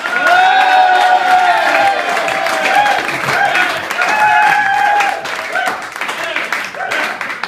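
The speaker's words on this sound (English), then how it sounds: "So, I can start the applause, ladies and gentlemen. Whoop and cheer." Audience at a comedy gig applauds and cheers for a comedian walking on stage, a dense loud wash of clapping with whoops, easing slightly toward the end.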